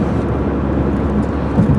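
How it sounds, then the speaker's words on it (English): Car motor drones steadily beneath heavy broadband wind rush from a bumper-mounted recorder on a drive to work, loud and continuous with no talking. "let you all listen to the motor and the wind noise"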